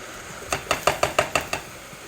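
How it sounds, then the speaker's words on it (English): Seven quick metallic scrapes in an even rhythm, a spatula dragged back and forth against the inside of a pot of boiling water, then quiet. "it don't matter if I go back and forth with a spatula like that"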